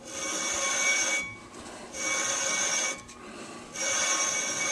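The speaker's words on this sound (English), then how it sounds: "We're going to take and spin this rotor." A Corvette brake rotor on a rebuilt trailing arm is spun by hand, making a close, steady metallic whirring rub in three separate bursts with short pauses between and no talking.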